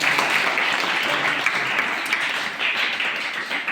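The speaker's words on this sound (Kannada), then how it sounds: "ಹಾರ್ದಿಕವಾದಂಥ ಸುಸ್ವಾಗತವನ್ನು ಚಪ್ಪಾಳೆ ತಟ್ಟುವುದು" An audience at a gathering with a revered guru breaks into sustained applause of many hands clapping, a dense even roar that holds for several seconds.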